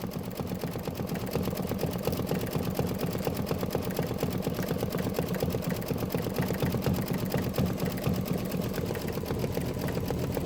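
A home embroidery machine stitches a quilt tile block, running steadily and moderately loud with a dense, even mechanical rattle throughout, with no pauses or talk.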